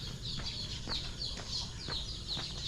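Chickens clucking in short repeated bursts, several calls close together, with faint background noise and no talking.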